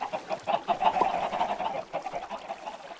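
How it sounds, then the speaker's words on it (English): Chickens on a farm in a video game cluck in quick, soft, repeated bursts, fairly faint and with no voices over them. "And now I'm gonna hatch some chickens."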